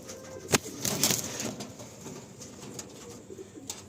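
Pigeons at a home loft coo softly in a low, murmuring chorus, with a few sharper bursts that may be wingbeats against steady background noise.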